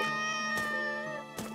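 A cat in the Let The Cat In video game meows twice, short harmonic cries spaced about a second apart, clear and close with no talk.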